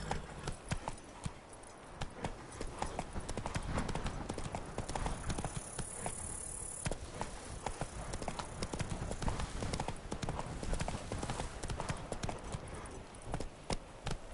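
Roach the horse's hooves clip-clop steadily in The Witcher 3, a brisk, even rhythm of close hoofbeats that carries on throughout, with faint game ambience underneath.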